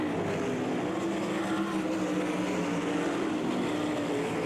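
Race cars circle I-96 Speedway during a night feature, a steady, fairly distant engine drone with no clear passes, holding evenly throughout.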